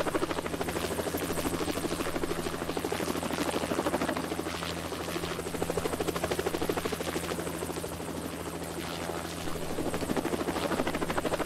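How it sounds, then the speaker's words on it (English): Helicopter in a Roblox combat game lifting off, its rotor producing a loud, steady chopping drone with a low engine hum, continuous and close throughout with no talking. "Alright, we're, we're taking off again on helicopter, though."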